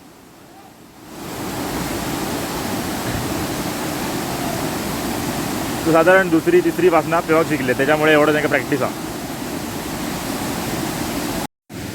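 Ozar waterfall at Bhirwande in Kankavli, Sindhudurg, rushes with a steady, full wash of falling water that fills the scene, while people talk over it partway through.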